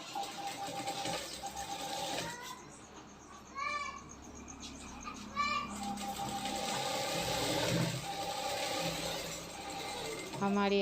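A sewing machine stitches a strip of fabric onto a katori blouse in bursts of whirring, rhythmic needle runs broken by short pauses and small mechanical clicks, fairly faint and close.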